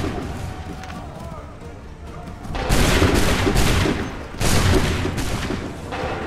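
Soldiers fire musket volleys in Assassin's Creed III, two loud sustained crackling bursts with rumbling booms as shouted orders ring out amid battlefield noise.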